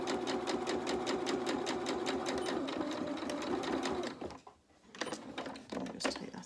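Sewing machine stitching understitching through fabric in a steady, rapid mechanical run for about four seconds, then a brief pause and a few short bursts of stitching close by.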